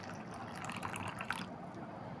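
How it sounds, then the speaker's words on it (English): Warm water pours steadily into a bowl holding yeast and sugar, a continuous close splashing trickle with no talking. "Add some warm water to it"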